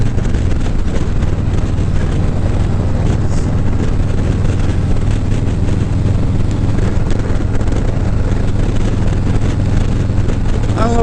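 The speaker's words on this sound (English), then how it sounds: "I don't know if anybody else can tell the difference in the sound of my bike" Constant loud rumble of a motorcycle engine while riding on a memorial ride, a steady drone thick with wind buffeting, unbroken for the whole stretch, with a voice talking faintly underneath.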